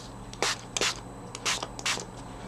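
A spray bottle of Blushing Bride ink refill diluted in rubbing alcohol gives four short, soft mist bursts in an even rhythm, each hiss close and clear over a quiet background.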